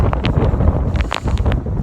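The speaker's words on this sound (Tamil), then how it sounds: "செம்ம காத்து காய்ஸ்" Strong, gusty wind at the Kelebokka mountain viewpoint in rain and mist buffets the microphone with loud low rumbling, broken by short rustling bursts.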